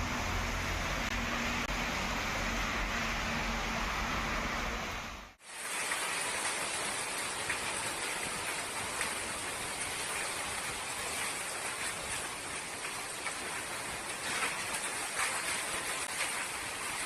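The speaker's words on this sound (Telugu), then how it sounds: "గాలి దుమారంతో వర్షాలు పడుతున్నాయి." Heavy rain with wind falls during a hailstorm in Hyderabad. A dense, steady hiss of rain on surfaces runs throughout, broken only by a brief cut partway through. No one speaks.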